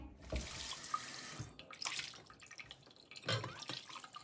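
Raw kaleji (liver) is rinsed under a running kitchen tap, water splashing in bursts that swell and ease across a few seconds, moderately close with no talking.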